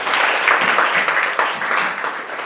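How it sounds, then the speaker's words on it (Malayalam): A classroom audience of students breaks into steady, dense hand clapping that fills the space evenly for a couple of seconds, close and fairly loud. "കൈയടിക്കടാ."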